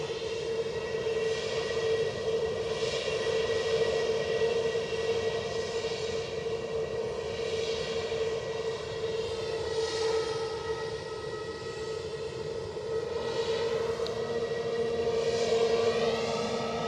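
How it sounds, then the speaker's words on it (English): An EasyJet airliner coming in from London Gatwick to Edinburgh Airport hums steadily with strong sustained engine tones and a slowly shifting whine, fairly close and constant for the whole stretch. "we have inbound action pending in the shape of an EasyJet from London Gatwick"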